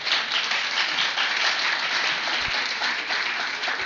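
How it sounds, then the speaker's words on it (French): Church congregation applauding and cheering together, a dense, steady wash of clapping and voices at full volume throughout, with no single speaker standing out. "est-ce que vous pouvez vous acclamer?"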